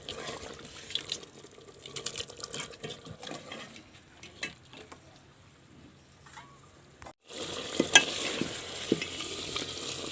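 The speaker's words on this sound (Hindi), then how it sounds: "देखिए दोस्तों, चिकन को अच्छी तरह से भून लिए, लाल हो गया है।" Chicken pieces being stirred and roasted in a pan in a village-style home kitchen: quiet scraping and stirring with a soft sizzle, then a louder hissing wash of sizzling in the last few seconds.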